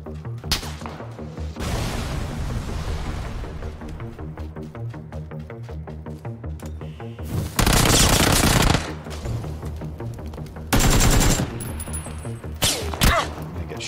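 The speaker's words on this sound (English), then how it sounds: "taking shots from behind." Automatic gunfire in PUBG on Xbox, with rapid bursts of shots, some loud and close, set over a steady rhythmic game soundtrack. Heavy volleys rise above the music in several spots.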